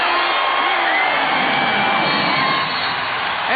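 Basketball arena crowd at the Summit in Houston cheering for the Rockets during a 1996 NBA game against the Sonics, a loud, dense, sustained roar with whoops throughout.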